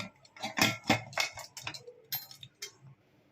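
A pressure cooker lid is fitted and closed over chana dal with salt, turmeric and green chillies, giving a run of light metallic clinks and clatters, close and fairly soft, tapering off at the end.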